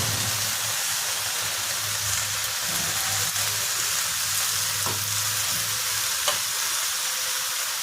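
Tomatoes and cashews fry in a pan for butter chicken, a dense, continuous sizzle close up with a few faint stirring knocks and scrapes, no voices over it.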